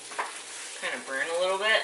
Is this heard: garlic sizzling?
yes